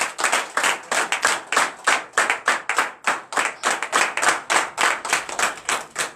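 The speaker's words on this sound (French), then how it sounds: "Donne l'acclamation" Congregation at a Sunday church service clapping in unison, a strong regular beat of sharp, loud handclaps about three per second, sustained and close, with no voices over it.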